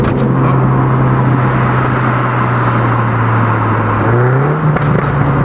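A Mini Cooper S R56 accelerates with a steady, loud engine drone heard from inside the car, holding one pitch before rising briefly near the end as the revs climb.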